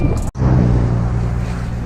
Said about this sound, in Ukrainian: який вітер великий